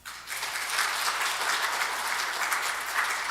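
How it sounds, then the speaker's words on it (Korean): Congregation at a Full Gospel church evening service gives a big round of applause for the associate pastors: a steady wash of many hands clapping, even and moderately distant, with no speech over it. "여러분들, 우리 부목사님들에게 큰 박수 한번 주십시오."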